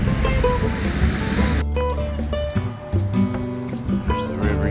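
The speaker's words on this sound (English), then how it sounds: "There's the river. You can tell it's up, but not too much." A river running high with rising water in West Virginia, a steady broad rush that turns into a patchier flow with clicks and rustles partway through, heard close and fairly loud.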